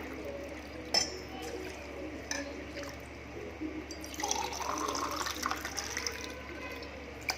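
Chilled water is poured in several splashy bursts into a bowl, with small drips and clinks between pours at close range.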